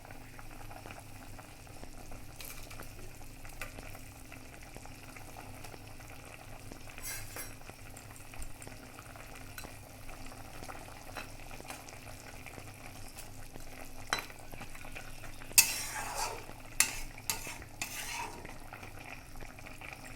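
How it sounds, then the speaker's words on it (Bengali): Pabda fish curry bubbles at a low simmer in a pot, a faint, even boiling murmur throughout. Near the end a few light clatters of a utensil against the pan break through. "ঝোলটা ফুটে গেছে, এবার মাছগুলোকে দিয়ে দিব।"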